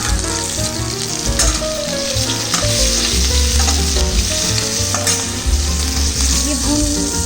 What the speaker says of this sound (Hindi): अब इसमें मैं ये प्याज, ये अदरक मिर्ची,